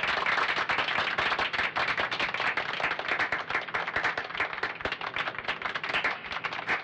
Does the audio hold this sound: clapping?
yes